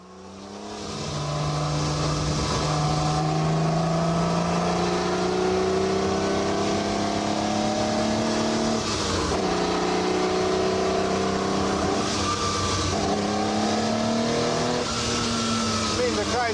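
A Ferrari engine revs loud and close, climbing steadily through high rpm around 5,000 to 6,000, with rising and falling tonal sweeps as gears change under continuous road noise.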